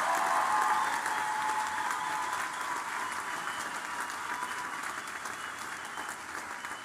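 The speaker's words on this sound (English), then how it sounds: "give everybody another round of applause and congratulations to all our students" An audience applauds at a medicine graduation pledge ceremony, with steady, dense clapping from a large crowd that slowly fades over about seven seconds.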